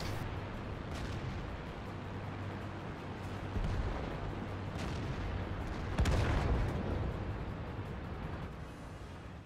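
In World of Tanks, a Leo PTA tank's cannon fires over a constant low engine rumble, with one deep, heavy boom about two-thirds of the way through and a smaller thump earlier, and no voices.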